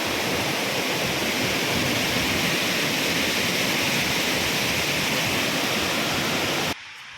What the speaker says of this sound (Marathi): हे बघा आमचा धबधबा बघा धबधबा वाहतोय